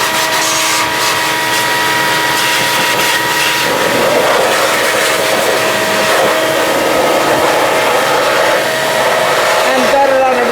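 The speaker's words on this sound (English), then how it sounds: "Yes, just using my vacuum on reverse." A vacuum cleaner run in reverse blows sawdust out of a turned eucalyptus wooden bowl, a loud continuous rushing whine of air that stays steady and close, shifting slightly in pitch toward the end.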